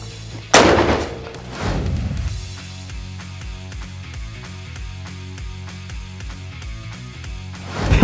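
A single sharp, loud gunshot is fired at a firework, followed by a second heavy boom-like burst and then quieter rhythmic low thuds. A final blast-like onset comes at the very end. No voices are heard.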